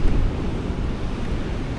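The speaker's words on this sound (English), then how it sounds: "the power of the rumble of the waves crashing along this beach" Ocean surf crashing on a San Francisco beach beyond the Golden Gate Bridge, a loud, continuous broadband roar of breaking waves with heavy wind rumble, close and unbroken.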